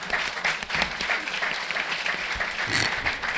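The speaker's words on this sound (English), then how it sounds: "And another round of applause to our panelists." An audience at a panel discussion on increasing social capital in high school applauds the panelists, steady continuous clapping filling the room for a few seconds.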